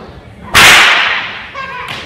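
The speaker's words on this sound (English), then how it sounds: "We can crack a whip over the horse's head" A single sharp, loud crack of a stock whip snapped over a horse's head, with a bright burst that tails off over about a second, heard alone without talk.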